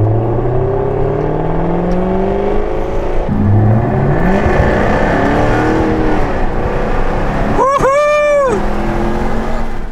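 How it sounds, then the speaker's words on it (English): A loud Jaguar F-Type R exhaust roars through rising revs and gear changes, ending with a sharp sweeping rev blip close by. "Now here we are with this dirty, dirty exhaust sound."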